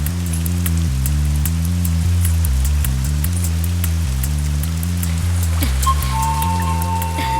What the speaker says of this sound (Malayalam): എനിക്കെന്തോ ഈ മഴ കുറയുന്നു തോന്നില്ല